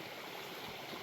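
A koi pond waterfall runs with a steady, close rushing and splashing wash of falling water, even and unbroken, with no voices.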